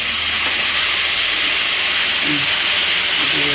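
Water splashed into a pan of onions fried in oil with spices hisses into a loud, steady sizzle of steam that holds at full strength throughout, with no talking.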